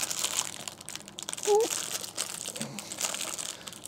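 Sealed plastic dice bags for the board game Europa Universalis being opened: close, continuous crinkling and rustling of plastic with a few sharper crackles, while a person talks briefly.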